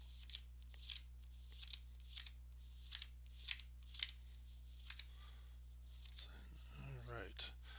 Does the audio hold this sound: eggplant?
no